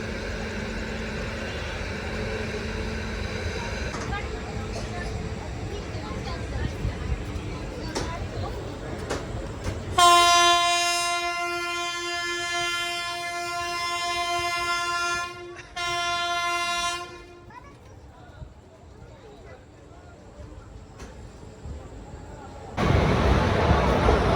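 Puri Tirupati Express pulling out of Khurda Road station, with a loud sustained train horn blast mid-way over rumbling wheels and station ambience, then the rolling noise swells again at the end.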